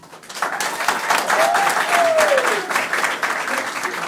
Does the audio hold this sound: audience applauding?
yes